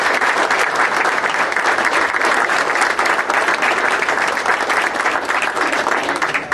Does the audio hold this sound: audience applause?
yes